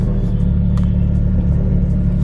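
A car with 200,000 miles on it and crunchy brakes rumbles steadily as it drives, its low engine drone heard from inside the cabin with no talking.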